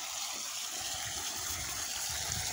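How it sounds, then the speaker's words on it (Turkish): Water running steadily through a vegetable garden with beans, squash and chard being watered, a continuous close gushing flow, moderately loud and unbroken, no voices. "Bu da burada akıyor suyum."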